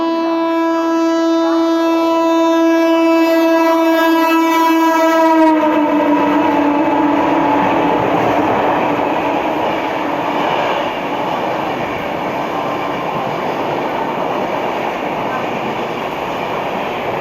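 An Indian Railways train passes at speed: a loud sustained horn blast gives way abruptly to a close, roaring rush of wheels and carriages that continues steadily to the end.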